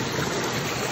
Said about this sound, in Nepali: पानी ठुलो रहेछ खोलामा